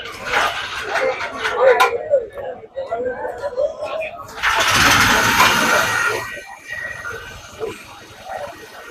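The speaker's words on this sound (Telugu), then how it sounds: "ఇది రోప్ లాగితే మనకు బండి స్టార్ట్ అయిపోతుంది." A paddy weeder's small engine is rope pull-started at an outdoor agricultural show. A burst of cranking and firing follows the pull, then the engine drops back to a quieter run while people talk nearby and a dog barks.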